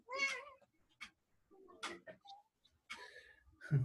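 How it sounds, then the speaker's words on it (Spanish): A cat meows several times indoors, the calls rising and falling with short pauses between them, faint and at a moderate distance in a quiet room. "Ataque de gato."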